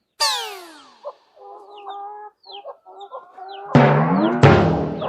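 A rooster crows loudly, followed by hens clucking and squawking nearby, with another loud crow near the end.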